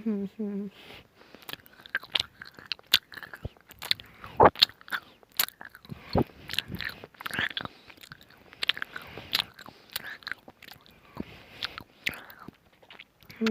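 Chocolate with a hard outer shell and a soft filling bitten and chewed close to the mic: a run of sharp crunchy bites, then moist chewing clicks and smacks, with a soft voice talking now and then.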